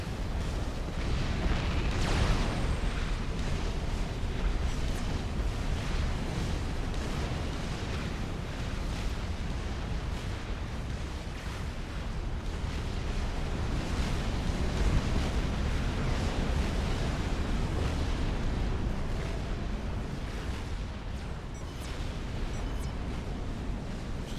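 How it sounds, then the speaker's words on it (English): Fat Boy artillery fire in a Supreme Commander 5v5 battle on Hilly Plateau: a dense, continuous rumble of booming impacts and blasts, loud and steady throughout with heavy low-end roar and no talk. "Going to be absorbing Fat Boy artillery fire though as he goes."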